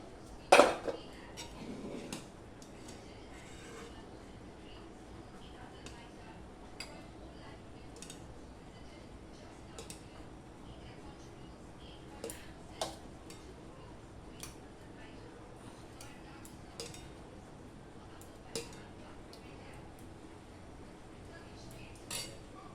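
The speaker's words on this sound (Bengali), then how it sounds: "এবার আমি এগুলো একটা কটা বাটি নিয়ে নিলাম" Bowls set out and handled for a chilled ripe mango dessert, scattered light clinks and clatters of dishes at irregular intervals, one sharper knock near the start, quiet and close in a calm kitchen.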